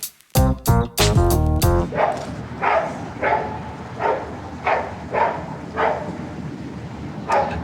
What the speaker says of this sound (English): Every time this dog barks, I just wonder if I should be speaking or not.